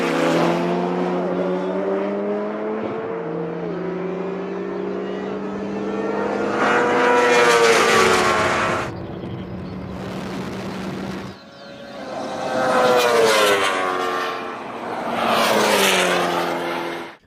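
A BMW S1000RR superbike, a McLaren 720S and an Ariel Atom race a drag strip, engines screaming through rising revs and gear changes, swelling loud as they pass and fading in between.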